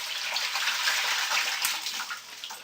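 Aquarium store water poured through a fish net while straining tetras, a steady splashing gush of water running close by, fairly loud, easing slightly toward the end.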